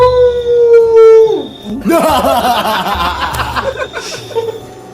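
A person imitates a dog's long howl, a sustained falling wail, then breaks into laughter and chatter.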